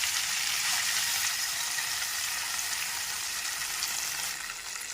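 Mint, coriander and curry leaves frying in a pan for a chutney, giving a steady, close, continuous sizzle and hiss that holds throughout and eases slightly at the end.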